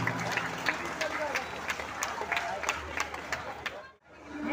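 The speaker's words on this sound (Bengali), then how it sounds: "একবার জোরে হাততালি এর জন্য।" A crowd applauds at a live stage show in Howrah starring Tollywood actor Jeet, brisk scattered clapping mixed with crowd noise and voices, fading out near the end.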